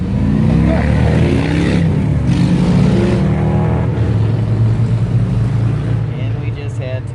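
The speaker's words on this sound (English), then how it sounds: "2 Harleys just go by." Two Harley motorcycles roar past close by, a loud, steady engine rumble swelling and sustaining before slowly easing off, with a voice talking over it.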